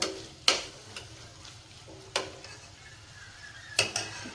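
Gourd curry stirred in a pan, heard as a few faint, scattered clicks and scrapes of a spoon against the pan over a soft, quiet background, with no talking.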